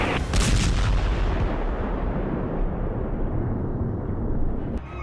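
Bombing of Hezbollah sites in Beirut, Lebanon, heard as news footage: a loud, heavy blast rolls into a sustained roaring rumble for several seconds, with a sharp crack near the end and no talking.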